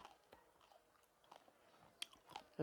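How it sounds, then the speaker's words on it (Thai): Crispy fried pork rinds being bitten and chewed close up, a short run of sharp, dry crunches and crackles against quiet, with no talking. "เคี้ยวให้เอฟซีฟังค่ะ"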